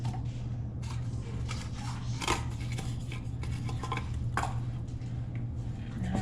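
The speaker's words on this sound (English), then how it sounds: "We're gonna mix this until it combines, and it's gonna be a very, very sticky, wet dough." A rubber spatula mixes a very sticky, wet ciabatta dough in a bowl, with steady squishing and scraping over a constant low hum and occasional brighter knocks, close and continuous.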